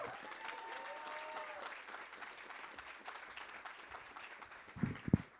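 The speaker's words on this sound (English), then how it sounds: "Give yourselves a round of applause for coming out" Applause from an audience at the Laugh Factory comedy club, a steady dense patter of many hands filling the room, with a few louder sharp claps or thumps near the end.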